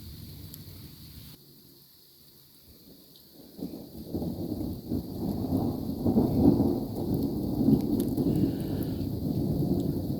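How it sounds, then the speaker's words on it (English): A February thunderstorm with rumbling thunder and steady rain, quiet at first and then swelling into a loud, continuous roar of rain with deep thunder rolls from about four seconds on. "we're getting a thunderstorm."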